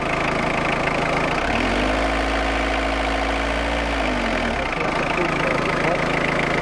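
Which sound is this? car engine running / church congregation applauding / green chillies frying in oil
car engine running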